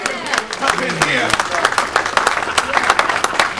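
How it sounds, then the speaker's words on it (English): A church congregation claps hands in a quick, scattered burst of applause, sharp and close, mixed with shouting voices and murmured responses. "Give God a hand clap."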